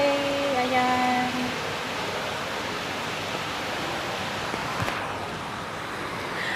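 Water flowing steadily in a jacuzzi fountain, a broad continuous rushing wash, with brief tonal sounds at the start and a faint voice in the background.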